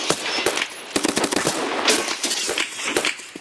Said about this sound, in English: That sounded exactly like an M4.